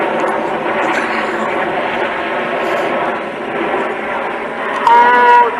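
Red Arrows jets fly in tight formation at the Duxford Battle of Britain airshow, with a loud, sustained roar of engine noise that swells near the end while a commentator talks over it.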